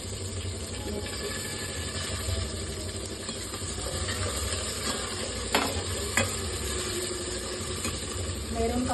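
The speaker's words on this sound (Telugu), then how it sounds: "మెరూన్ కలర్ వచ్చేంత వరకు వేయించేసుకోవాలి." Onions and green chillies fry with cashews in a pan for palak rice, a continuous close sizzle broken by occasional scrapes of stirring.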